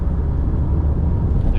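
A 1984 Pontiac Fiero with the 2.5 Iron Duke engine driving along a wet gravel road, a steady low engine drone and road rumble heard from inside the cabin.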